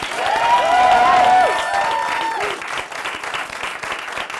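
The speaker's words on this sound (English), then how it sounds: "Please help me give a round of applause to our consultants, Michael, Jess, Katie, and Jen, for all their help this season" A room of people applauds consultants at a spring product launch event, a steady burst of clapping with some whoops that swells early, then thins and tapers toward the end.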